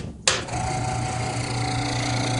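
The vacuum unit of a working commercial exposure unit starts with a sharp click and then runs as a steady, close mechanical hum with a constant droning tone.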